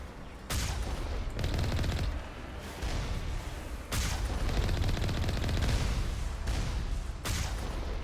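Sustained turret gunfire in Mass Effect 1 shakes the Mako vehicle's surroundings: dense, rapid bursts rattle on for several seconds, pausing briefly between volleys, loud and close.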